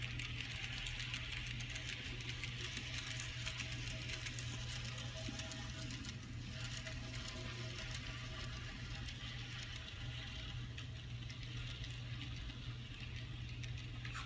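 A Bachmann N scale Durango and Silverton model train running slowly, a steady, faint electric motor whir with a light, rapid patter of wheels on track that holds evenly throughout, close and without voices.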